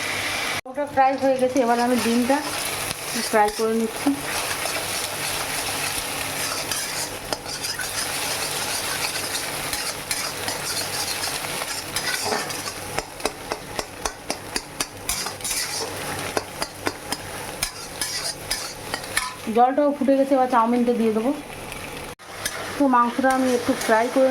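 Chicken, egg and potato fry in a pan for a chowmein dinner, with a constant sizzling hiss, spatula or utensil stirring and scraping in bursts, and a voice speaking over it at the start and near the end.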